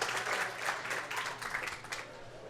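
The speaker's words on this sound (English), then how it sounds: "How about a round of applause as we begin our championship round here at the 2022 Super Senior Classic" Audience applause at a senior bowling championship, a brief burst of steady clapping from a moderate crowd, alone without talk.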